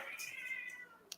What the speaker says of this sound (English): Sorry, that's the cat.